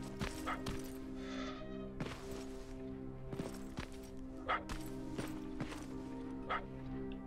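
Dog barking in the Terminator: Resistance video game, several sharp barks at irregular intervals over steady tonal game music and ambience.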